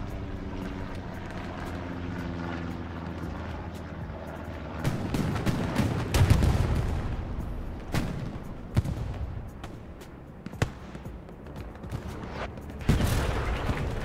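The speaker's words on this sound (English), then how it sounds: "Okay, hearing bombing run perhaps." A bombing run unfolds in the World War II shooter Hell Let Loose on the Sainte-Mère-Église map, with a low aircraft drone overhead followed by a string of distant and near bomb blasts and crackling impacts.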